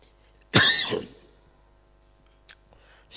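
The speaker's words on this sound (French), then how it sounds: "c'est aujourd'hui que je tousse." A single sharp, harsh cough close to the microphone during a church sermon, followed by quiet and a couple of faint clicks.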